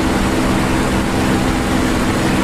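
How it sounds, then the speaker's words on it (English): A damaged WWII fighter plane engine in the DCS World flight sim, heard as a loud, steady, droning roar with a low hum that holds evenly throughout, with no voices. "I think my engine's got some damage."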